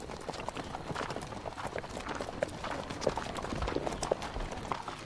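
Horse hooves clip-clop continuously at a brisk, steady pace, fairly close, with a soft rustling background.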